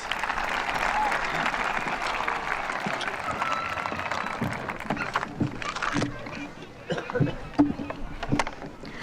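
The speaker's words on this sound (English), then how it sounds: "If we could give them one more round of applause as they kick off our ceremony here for us." Audience applause at the 2022 CHS commencement ceremony, a broad wash of crowd clapping that thins out toward the end into scattered claps, fairly distant and moderate in level.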